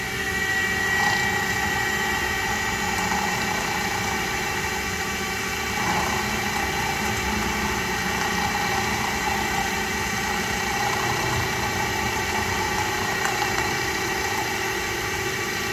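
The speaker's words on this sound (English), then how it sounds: "These crown wheels are hard, very hard steel. The carbide end mill." A carbide end mill cuts matching holes in a very hard steel BMW crown wheel for a Quaife limited-slip differential, a loud, steady machining drone that runs unbroken throughout.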